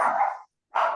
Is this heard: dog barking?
yes